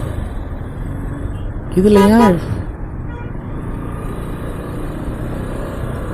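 Road traffic in Saudi Arabia as heard from a food delivery motorbike: a continuous rumble of passing vehicles with a short, loud horn-like blast near the middle, and a person speaks briefly.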